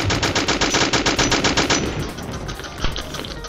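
An MG-42 machine gun in a Roblox Area 51 survival game fires a loud, fast, evenly spaced burst up close, then stops, leaving a few scattered thuds and softer game noise.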